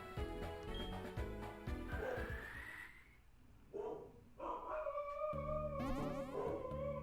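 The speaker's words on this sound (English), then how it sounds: "my dog is howling" Dog howling in the game Pokemon Diamond, a synthesized cry of sliding and rising tones over layered game music, moderately loud with brief pauses between phrases.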